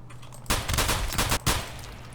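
Bursts of gunfire in Escape from Tarkov, a couple of quick rounds followed by a short volley, moderately loud and nearby, with no talk over it.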